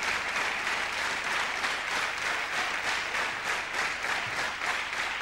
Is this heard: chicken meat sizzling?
no